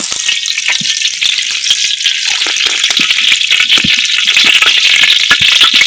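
Hot oil sizzling and frying steadily in a village pan while masala for snail curry is prepared, a loud continuous crackle with small pops, no talk.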